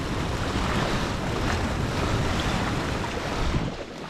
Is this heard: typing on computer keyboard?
no